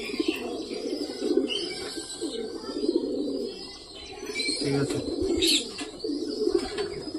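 Pet pigeons coo in a steady, low murmuring stream close by, with faint chirps and a brief flutter of wings; a voice speaks briefly over the birds.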